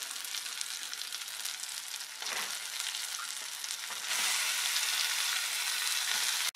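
Steady, loud sizzling of chicken frying with onions and garlic paste in a hot pan, with brief stirring scrapes and a surge in intensity partway through.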